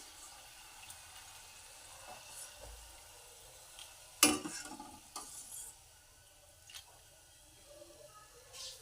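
Palak shankarpali pieces fry in hot oil with a steady soft sizzle, broken by a sharp metallic scrape of a slotted spoon and a few quieter clinks, heard close with no talk.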